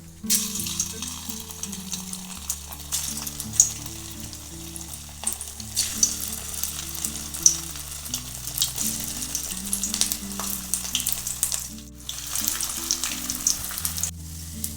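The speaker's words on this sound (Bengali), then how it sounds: "এখানে আমি কড়াইয়ে সাদা তেল দিয়েছি, তেলটা দেখুন গরম হয়ে গেছে। এখন আমি একে একে ভেজে নেব।" Sabudana french fries deep-frying in hot white oil in a kadai, a steady close crackling sizzle that runs throughout with occasional louder pops and no voices, along with a low background tone beneath.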